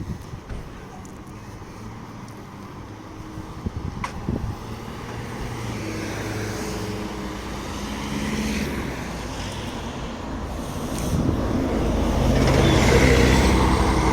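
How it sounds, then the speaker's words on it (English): Road traffic flows past as buses pull in near a pilgrimage site in Medjugorje, a continuous engine rumble with a louder vehicle swelling close by toward the end. "And you see the buses are coming in"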